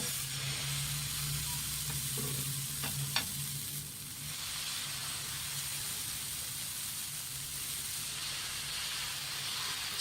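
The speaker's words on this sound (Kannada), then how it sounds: "ಇವಾಗ ದೋಸೆ ಹಾಕೊಳ್ಳೋಣ" Dosa batter sizzling on a hot tawa for butter masala dosa, a quiet steady hiss with a few small clinks and scrapes early on, soft and continuous throughout, no voices.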